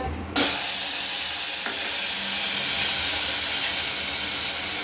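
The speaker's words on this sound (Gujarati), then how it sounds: "તેલ ગરમ થઈ ગયું છે, થોડીક આપણે હળદર નાખશું। હવે આપણે ટમેટા નાખશું।" Tomatoes and turmeric hitting hot oil for spicy masala Maggi, starting with a sharp burst then a steady, loud, broadband sizzle and hiss that holds close and continuous with no talking.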